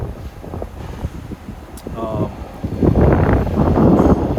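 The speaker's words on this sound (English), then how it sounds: "Sorry for the wind. It's very windy here." Wind buffets the microphone outdoors, a steady low rumble that surges louder in the second half, with faint voice-like sounds mixed in.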